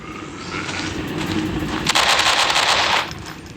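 Rapid automatic gunfire in the Mother Bird horror video game, a dense rattling burst that swells louder midway and then stops, with no talking over it.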